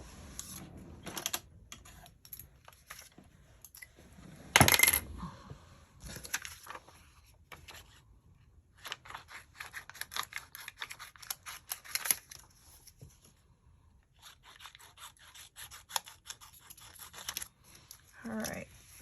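Scissors cutting paper while making a scrapbook page, a long run of irregular crisp snips and rustles up close, with one louder rustling burst and short quiet pauses between cuts.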